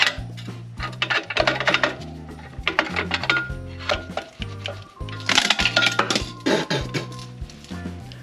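Metal parts clink and clatter close by as the clutch pressure plate comes off an MK4 Volkswagen Golf, in irregular bursts of tinny knocks and scrapes with a low hum underneath.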